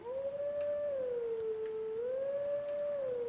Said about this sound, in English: you actually just howl the whistlegrass song